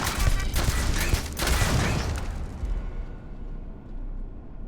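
Rapid automatic turret gunfire in the video game Starfield, a dense burst of shots and booms that fills the first few seconds and then dies away into a quieter rumble.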